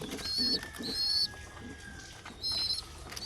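Pigeons kept in a small home loft make faint, distant bird calls in short repeated bursts over a quiet background, with no talking.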